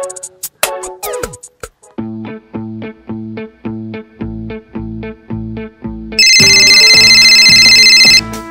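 A musical phone ringtone plays in a repeating tonal pattern while a call is being placed, ending in a loud, bright ringing burst near the end; no one speaks over it.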